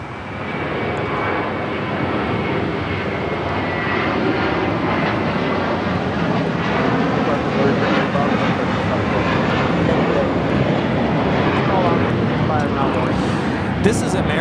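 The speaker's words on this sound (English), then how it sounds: "This is American Airlines 3295 taking off to Dallas Fort Worth on an A321." An American Airlines Airbus A321 takes off at LAX, its jet engines building into a loud, continuous roar that holds steady and swells slightly toward the end, with no talk over it.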